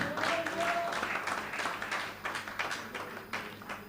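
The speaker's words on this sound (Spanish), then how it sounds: "Un aplauso para vosotros." Applause from a church congregation at a mission service on Bonaire, a crowd clapping with distinct rhythmic claps, moderately loud and gradually thinning.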